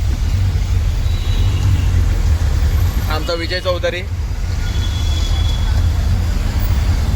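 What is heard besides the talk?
traffic jam heard from a rickshaw in Majiwada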